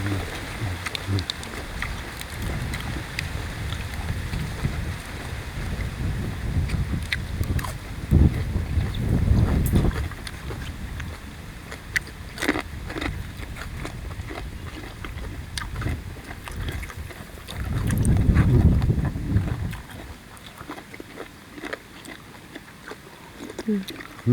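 Wind blows outdoors, a steady broadband rush with louder gusts buffeting the microphone, heard under ongoing talk and scattered clicks and knocks.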